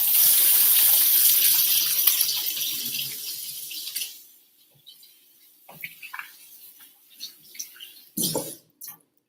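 Tap water runs into a sink with splashing as hands are washed, then the flow stops, leaving drips and a few small wet handling sounds.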